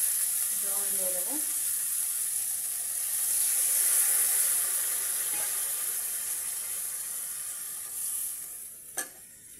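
Water poured into a pan of sizzling buwal fish chorchori, a brief liquid splash early on, then a steady steamy hiss that swells and fades, with one sharp knock near the end.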